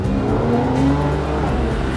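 A car roars along at speed, its engine droning steadily with a faint tire hiss, loud and close throughout.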